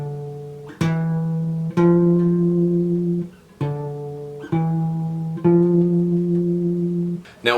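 A bass guitar plays a short melodic, ascending phrase, repeated plucked notes, some ringing longer, in a steady loose rhythm with no talking.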